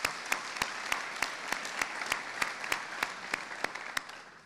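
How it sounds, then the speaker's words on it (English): An audience at a community foundation scholarship night applauds, a steady wash of clapping with a few sharp, distinct claps standing out near the front, gradually tapering toward the end. "Big round of applause to them one more time,"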